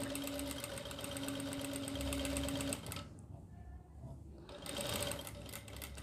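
A sewing machine runs steadily while stitching a kurti, a continuous close mechanical whir that pauses briefly midway, then resumes.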